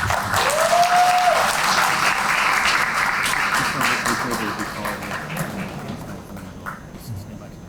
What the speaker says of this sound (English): Let's give the command structure a big round of applause.